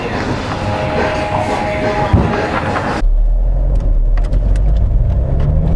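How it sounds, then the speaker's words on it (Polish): Fiat Bravo 1.9 JTD diesel revving on the move, a loud, steady cabin drone of engine and road noise that shifts into a deeper, rising pull partway through. "Po prostu trzeba go kręcić wysoko. JTD wydaje mi się, że lubi obroty."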